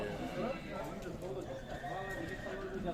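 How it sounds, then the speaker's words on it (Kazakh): At a horse market, a horse neighs and whinnies amid clip-clopping hooves, with people talking close by throughout. "Жақсы жылқы ekan."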